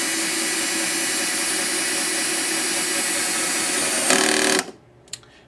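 Power driver spinning a bolt tight during a Probe Plus kit build, a steady close whine running for several seconds, rising slightly before cutting off, followed by a couple of faint clicks.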